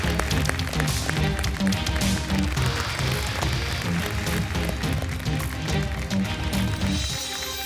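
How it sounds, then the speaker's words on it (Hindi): An audience on the Zee TV show Ideabaaz welcomes contestants from Indore with steady, dense applause, many hands clapping together over a rhythmic musical beat, sustained and fairly loud. "जोरदार तालियों से स्वागत करते हैं इंदौर से पूर्णिमा और अमित का."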